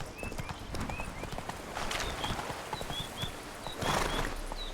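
Hooves of the horse Roach clip-clop in a steady gallop rhythm within the Witcher 3 video game, with game music and ambient effects underneath.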